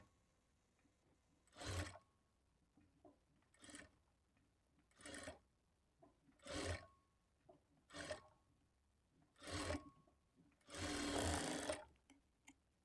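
A sewing machine stitching the lining of a blouse runs in short, close bursts of rapid stitching separated by pauses, ending with a longer run. No one talks.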